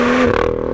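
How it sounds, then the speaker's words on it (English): BMW M2 engine revving up close, a short loud burst with a steady tonal growl that rises and then settles, alone with no voices. "So it really does make a nice sound, this car."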